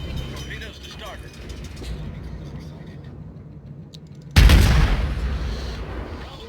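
Naval guns boom in World of Warships while a German cruiser, the Karlsruhe, comes under fire: a low rumble of distant shots, then one loud, close blast near the end that decays slowly.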